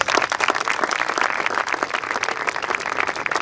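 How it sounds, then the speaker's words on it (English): Enthusiastic applause from a sizable crowd at an annual dinner at Aitchison College, Lahore, dense and continuous clapping, loud and close throughout. "please give him a huge round of applause"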